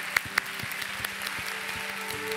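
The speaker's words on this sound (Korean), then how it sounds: "우리 감사와 영광의 박수 함께 드리며 나아가도록 하겠습니다." A church congregation applauds in a continuous, even patter of many hands, moderately quiet, with a couple of sharper individual claps near the start and a low tonal background underneath.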